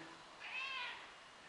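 Cat meowing once, a single drawn-out meow at moderate distance over a quiet background, with no talking.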